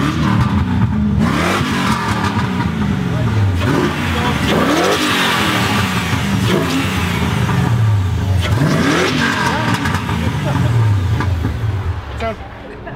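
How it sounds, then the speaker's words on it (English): Car engine at the Drift Games Bash drift event, revving hard in repeated rising and falling surges as the car slides, loud and close with crowd and ambient noise throughout. "now it's drifting at the Drift Games Bash"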